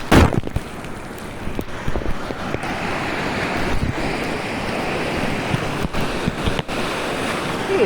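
Ocean surf rolling onto the beach at Bakkhali, a continuous roar of breaking waves with heavy wind buffeting the microphone and occasional thumps.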